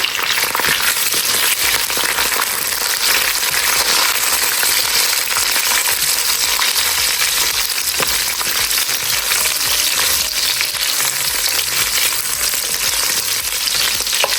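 Sliced ginger, lemongrass and chopped garlic toasting in a hot pan, a steady close sizzle and crackle of frying that continues without a break, with occasional stirring clinks.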